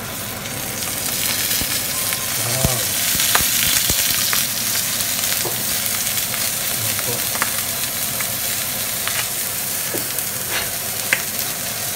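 Milkfish (bangus) dressed with olive oil sizzles steadily on a grill, a continuous dense frying hiss with occasional sharper pops and crackles throughout.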